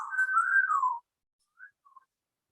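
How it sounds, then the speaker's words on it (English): A person whistles at a bird: one sustained, warbling whistle lasting about a second and sliding downward, then silence broken by two brief, faint chirps. "I'm whistling at him"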